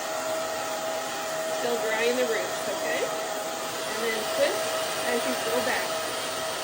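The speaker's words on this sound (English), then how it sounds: "And that's all with a blow dryer and round brush." A hair dryer blow-drying hair while a round brush lifts and twists it, a steady close whooshing hum running throughout with slight shifts as the brush moves, and a voice speaking briefly over it.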